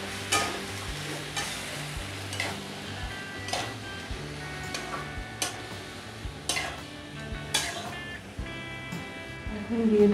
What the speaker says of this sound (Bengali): এবার আমি কেটে রাখা চাল কুমড়োগুলো দিয়ে দেব, আর তার সাথে 4-5টা কাঁচা লঙ্কা দিয়ে দিয়েছি চিড়ে। ভালো করে একটু তেলে নেড়ে দেব।